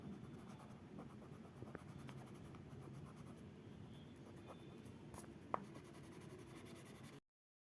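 Paper rubbed over a colored drawing of a scenery to blend the colors gives a steady, soft scratchy rustle throughout, close and fairly quiet, with one brief sharper tick near the end.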